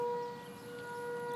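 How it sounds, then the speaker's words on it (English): Tornado warning sirens sound in Norman, Oklahoma, as a faint, steady wail from a distance, holding an even pitch throughout with a quiet background. "We've got the sirens going off here for tornado warning."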